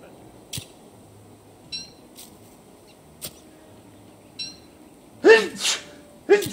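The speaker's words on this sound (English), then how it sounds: "Sneezes always just like to come out of nowhere." A person sneezes during a livestream, a couple of sharp, close sneezes near the end after a quiet stretch broken only by faint clicks and chimes.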